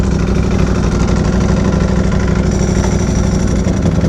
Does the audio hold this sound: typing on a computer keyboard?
no